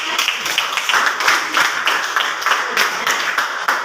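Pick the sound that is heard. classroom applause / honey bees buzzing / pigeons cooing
classroom applause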